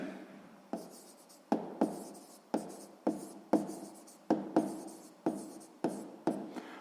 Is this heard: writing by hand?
yes